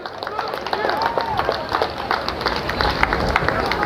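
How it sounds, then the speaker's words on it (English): A rally audience in Lansing, Michigan applauds for Scott, with dense steady clapping and scattered voices and crowd chatter mixed in. "everybody give Scott a round of applause"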